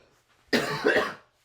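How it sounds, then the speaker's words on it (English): A single short cough, close and fairly loud, after a moment of near silence. "Still got a cough."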